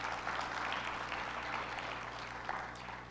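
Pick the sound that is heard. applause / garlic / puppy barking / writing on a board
applause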